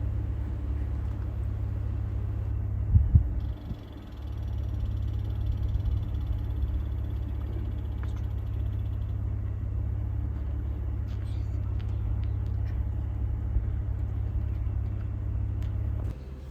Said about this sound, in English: Here we are in the truck, driving to another unit.